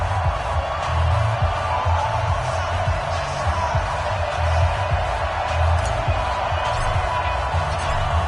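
Crowd noise fills an NFL stadium in a Madden NFL game before an Arizona Cardinals versus Buffalo Bills matchup, a dense continuous roar of cheering that swells and dips slightly, loud and steady with no clear talk.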